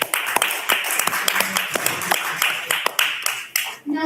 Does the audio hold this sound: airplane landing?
no